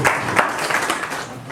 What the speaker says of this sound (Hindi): सभी से निवेदन की तालियों की गड़गड़ाहट के साथ पूरा सदन मिलना चाहिए।